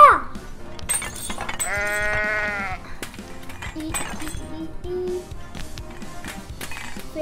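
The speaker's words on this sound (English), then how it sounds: "This goat is crazy." A goat in the physics game I Am Bread gives a loud, wavering bleat near the start, followed by clattering taps and smashing noises from the game.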